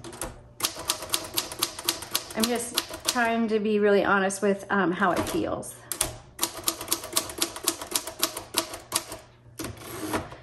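Typing on a repainted 1954 Royal HH manual typewriter: rapid, loud clattering keystrokes with carriage clicks, pausing while a person talks in the middle, then resuming the steady key strikes.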